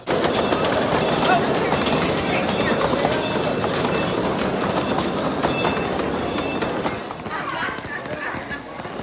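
Museum train number 1 rolls past on its rails, a loud, continuous rumble with rhythmic clatter, steady throughout before easing slightly near the end, and voices of people nearby mixed in.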